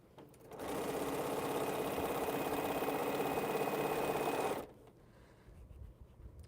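A sewing machine runs in one steady, close, continuous burst of about four seconds while stitching a quilt piece, then stops, leaving quiet room tone.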